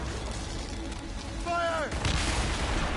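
Gunfire volley in the Assassin's Creed Rogue video game, a loud burst of booming shots after a shouted command, with a short whistling streak before the blasts and dense battle noise around.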